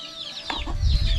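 Chickens cluck close by in a quick burst of short, throaty calls over a low rumbling background.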